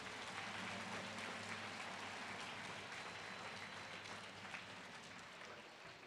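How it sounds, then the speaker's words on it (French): Sustained applause from an audience greeting a delegation at a children's pilgrimage gathering, a steady wash of many hands clapping at moderate level throughout, with no voices standing out. "Alors applaudissez pour cette délégation."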